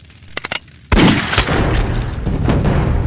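Gunfire from a Deadpool 2 film scene: a few sharp clicks, then a loud blast opens a dense, roaring burst of shots and booms that carries on close and heavy to the end.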